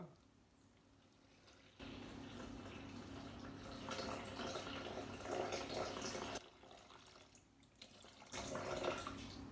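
Water poured in bursts into a container, a soft rushing trickle that starts, pauses and resumes, faint and close by.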